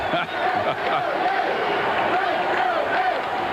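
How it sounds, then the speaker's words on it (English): Baseball crowd of New York Mets fans at a 1984 game chanting "Let's go Mets" in a dense, steady roar that fills the whole clip, rhythmic voices blending into loud continuous cheering. "you hear the crowd chanting, "Let's go Mets.""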